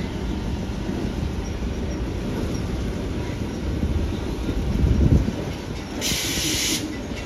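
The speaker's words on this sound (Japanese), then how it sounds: "あれが引いていく電車。" A continuous rumbling, hissing rail noise of an electric towing locomotive rolling along tracks beside the Panama Canal, steady and fairly loud, with a brief high whine near the end.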